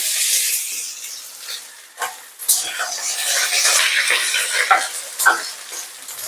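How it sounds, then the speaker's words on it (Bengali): Potatoes frying in hot oil in a wok with cumin seeds, a steady bright sizzle and crackle running throughout, swelling and dipping as they are stirred, with occasional sharper pops. "এবারে আলুটা ওখানে ভাজা হচ্ছে"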